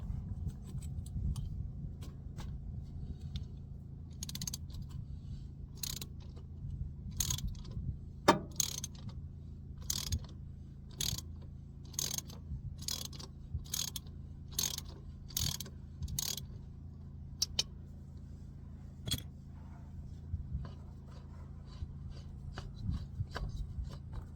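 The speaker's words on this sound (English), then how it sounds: "Get the all-important fluted socket. Ratchet." Ratchet wrench turning a fluted socket on a high-mileage Toyota Prius, a run of sharp, evenly spaced clicks in bursts over a steady low hum, close and fairly loud.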